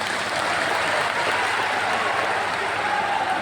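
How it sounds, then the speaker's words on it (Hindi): A large crowd at a Bageshwar Baba religious gathering claps for itself, a dense, even roar of applause that stays loud throughout. "एक बार अपने लिए ही ताली बजा लो।"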